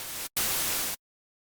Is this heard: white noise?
yes